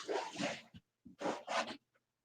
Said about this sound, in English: think she's barking at some buzzards